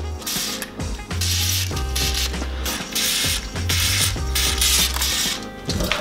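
A ratchet works on the nuts of a Horex Regina motorcycle with loud, close, rapid clicking in repeated strokes and brief pauses between them.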